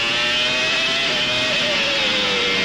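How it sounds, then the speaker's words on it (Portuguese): High-pitched Renault Formula 1 engine screaming steadily from onboard Damon Hill's car at the 1995 Australian Grand Prix, loud and constant, with slight pitch shifts through the revs and gear changes. "curtindo o som do motor Renault, as mudanças de marcha"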